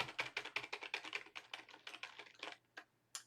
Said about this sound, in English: We got Notepad to open. We can type.